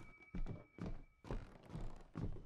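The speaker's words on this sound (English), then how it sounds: "The shoes are making noise." Shoe footsteps in the horror video game Visage land as soft, muffled thuds, about four or five uneven steps, fairly quiet and close, with a faint steady hum underneath.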